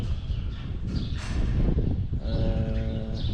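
Calves and cows in a barn pen give a loud, close moo that swells and holds, with general livestock shuffling and barn noise running underneath.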